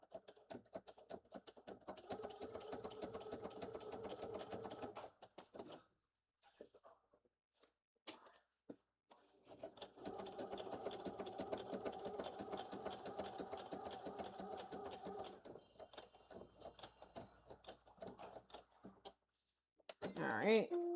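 A sewing machine runs basting stitches across blazer fabric in two long steady whirring runs separated by a short pause, close up, with a brief voice near the end.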